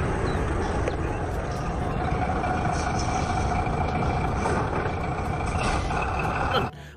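A toy cement mixer truck plays loud, continuous electronic engine rumble with repeated beeping and hissing effects, steady throughout before cutting off abruptly near the end.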